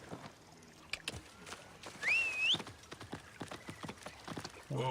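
Horse hooves clip-clop in Assassin's Creed Origins, a quiet, steady run of soft game-audio hoofbeats, mixed with a brief whistling sweep and faint watery background.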